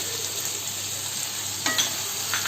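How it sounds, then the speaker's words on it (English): Chicken pieces coated with spices and black pepper powder fry for a desi chicken kassa, giving a steady, close hiss of oil sizzling in the pan with a brief stirring scrape near the end. "And now again I will fry it for 1 to 2 minutes."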